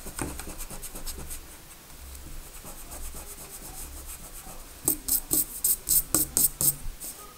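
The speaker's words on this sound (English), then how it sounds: "So I'm going to erase over here." An eraser rubs over a pencil drawing on paper in quick back-and-forth scrubbing strokes, soft at first and then louder and sharper in a rhythmic series of close, scratchy rubs.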